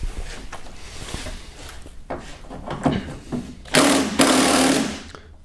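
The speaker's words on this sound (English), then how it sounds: "we have 3 bolts here for the door lock actuator, okay, with the Torx 30, looks like it." A Torx 30 bit working on the door lock actuator bolts of a Hyundai Sonata front door gives short metallic scraping and clicking bursts at close range, growing louder toward the end.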